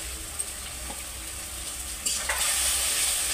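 Vegetables stir-fried in a pan with poppy seed and lentil dumplings, a steady soft sizzle with scraping stirs that grows louder and brighter toward the end, close up with no talking.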